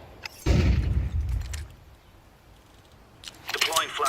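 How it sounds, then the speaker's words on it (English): A flashbang grenade goes off in a tactical shooter game as a sharp, booming blast that rumbles and fades over about a second, then gunfire and clatter follow; voices talk in the background. "Flashbang."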